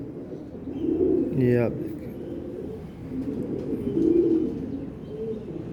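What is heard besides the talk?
female Teddy breed pigeon cooing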